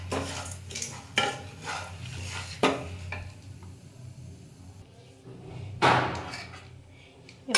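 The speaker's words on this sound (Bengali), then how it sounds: "পরিমাণ মতন চিনি দিয়ে একটু নেড়ে নেব, কারণ প্রায় ভাজা হয়েই এলো।" Semolina halwa stirred in a pan after sugar goes in, with a few sharp spoon-against-pan clanks and scrapes spaced irregularly over a low background hum.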